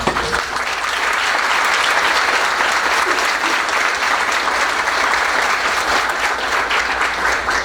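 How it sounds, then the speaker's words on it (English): Sustained applause from the audience at a school district board meeting, a dense, steady wash of many hands clapping that fills the room at full volume throughout. "We'll give them a round of applause right now."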